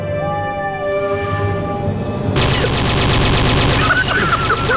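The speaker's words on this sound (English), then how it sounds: "Now gun it down with an AK." Rapid automatic AK rifle fire in a video game suddenly erupts after a calmer ambient stretch with a tonal sweep, loud and sustained fusillade continuing to the end.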